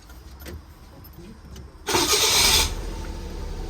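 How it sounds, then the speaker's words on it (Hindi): A Suzuki Alto VXR with a swapped automatic engine cranks and fires. A short, loud start burst follows a quiet lead-in, then settles into a steady idle close by. "मैं आपको गाड़ी स्टार्ट करके भी दिखा देता हूँ।"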